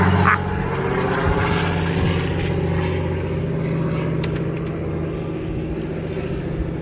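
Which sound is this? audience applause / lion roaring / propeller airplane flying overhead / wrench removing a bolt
propeller airplane flying overhead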